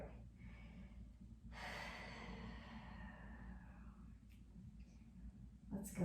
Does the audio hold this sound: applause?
no